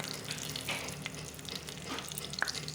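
Nigella seeds with dried and slit green chillies frying in hot oil in a pan: a steady close sizzle with occasional small pops and stirring scrapes, no voices.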